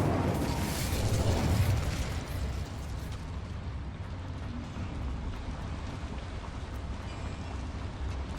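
In Hogwarts Legacy, the Incendio fire spell goes off as a loud, dense roaring whoosh of flame. It swells over the first two seconds, then settles into a steady crackling rumble, and no one speaks.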